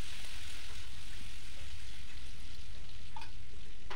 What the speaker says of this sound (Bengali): এবার দিয়ে দিয়েছি ঘিটার মধ্যে তোমার দারচিনি, এলাচি, লং, তারপরে তোমার কিশমিশ আর যে এই কাজুগুলো ভেজে নেব।